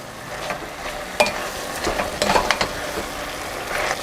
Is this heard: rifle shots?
no